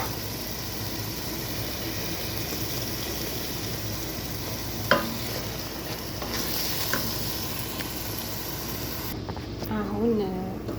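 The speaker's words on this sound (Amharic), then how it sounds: "ቲማቲሙ ፍሬሽ ቲማቲም የተፈጨ ሳልሳ እጨምራለሁ።" Freshly ground tomato salsa is stirred into a hot pan for an Ethiopian-style okra dish, giving a steady broad sizzle with a few soft scrapes of the spoon. Near and even throughout, with a brief rustle toward the end.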